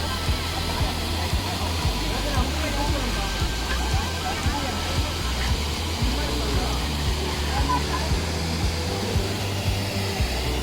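Blue Lagoon waterfall roaring as a loud, steady rush of falling water that fills the whole scene without letup.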